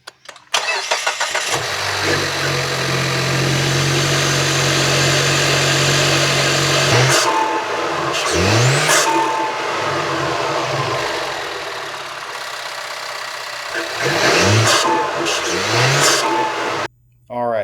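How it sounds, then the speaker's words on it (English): A Mazda 3 Turbo with a stage 1 short ram intake starts and idles loudly up close, then the engine is revved in several sharp rising blips separated by steady idle, ending with a brief cut. "we're going to be ready to do some sound clips on the short ram style, also known as the stage 1 intake."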